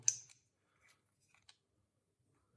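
Scissors cut a thermal pad during a Game Boy Color screen and shell repair. One faint, crisp snip is followed by a few tiny clicks against a quiet background.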